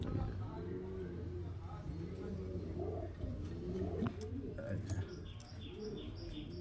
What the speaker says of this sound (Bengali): দেখতে পাচ্ছেন ফ্রেন্ডস দুর্দান্ত কোয়ালিটির পায়রা ফ্রেন্ডস